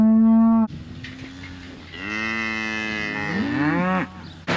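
Cows moo loudly on a farm, one long low call followed by a rising, drawn-out bellow, close and clear with no talk.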